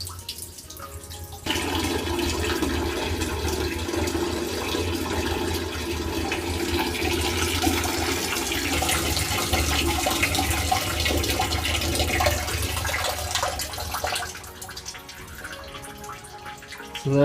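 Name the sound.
water with red dye draining and swirling down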